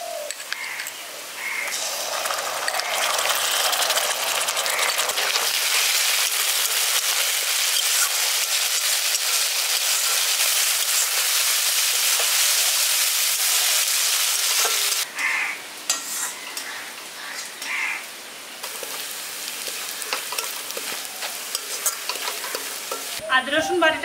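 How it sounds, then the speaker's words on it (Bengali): Onion with ginger garlic paste fries in a pan for a village-style fish kalia, giving a constant bright sizzle. A spoon stirs and scrapes through it throughout, with no voices. "আদা রসুন বাটাটা দিয়েও ভালো করে কষিয়ে নিয়েছি।"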